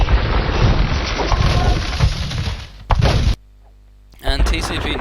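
Ships are destroyed in an Age of Empires II match, with dense rumbling battle booms and crashes, a sudden silent gap, then more impacts resuming.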